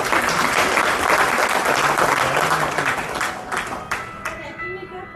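A live audience at a retirement function breaks into loud, dense applause after a recited Urdu couplet, the clapping sustained throughout and thinning slightly toward the end.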